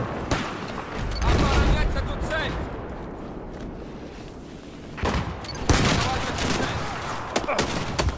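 Battlefield 4 gunfire crackles in bursts throughout, with dense volleys near the start and again in the second half over a busy battlefield bed, while a voice talks over parts of it.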